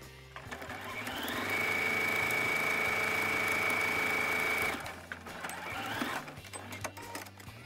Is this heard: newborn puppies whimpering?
no